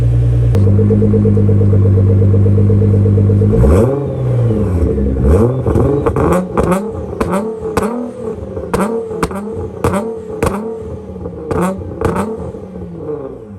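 A cold Nissan GT-R engine idles steadily, then revs repeatedly in short, sharp bursts, each roar rising and falling quickly, loud and close.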